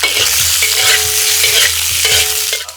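Whole garlic cloves stir-fried with pork belly in a wok, a loud close sizzle with rhythmic scraping strokes of a spatula against the metal, no voices.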